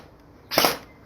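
An airsoft gun fires a quick two-shot burst, a sharp, snappy crack heard up close against a quiet background, with no talking.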